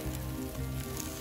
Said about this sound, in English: So my butter is browning extremely fast. Means the pan is very hot